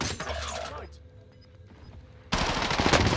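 Gunfire in a video game: a short burst of shots at the start, a quieter stretch with faint mechanical clicks, then a loud, dense volley of rapid gunfire to the end, with a voice briefly heard early on.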